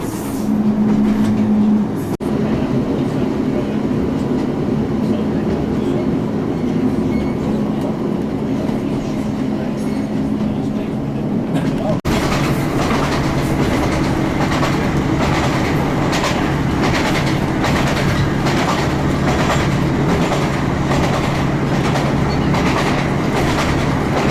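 A train rumbles steadily along the West Highland Line approaching Glenfinnan Viaduct, a continuous close rolling drone with rhythmic clickety-clack over the rails and a brief shift in tone partway through.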